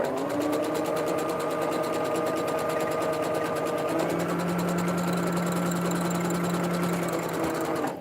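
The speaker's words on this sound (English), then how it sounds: "then you're going to start sewing forward" A sewing machine stitches fabric for wig making, its motor humming in a steady, loud, continuous drone with rapid needle chatter and a slight pitch shift partway through, with no voices.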